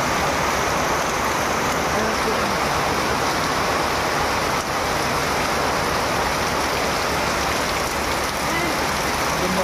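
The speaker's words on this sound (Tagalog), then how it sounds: "Lumakas na ang ulan." Heavy rain pours down steadily and loudly, a dense continuous hiss and patter on surfaces that fills the whole stretch without letup.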